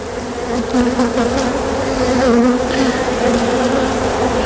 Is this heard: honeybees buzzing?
yes